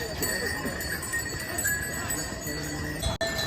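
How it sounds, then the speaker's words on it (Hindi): Pack horses with bells plodding along the Kedarnath mountain trail, steady hoof clip-clop and faint jingling under continuous crowd chatter and nearby voices. "बेल्स की आवाज़ सुनिए।"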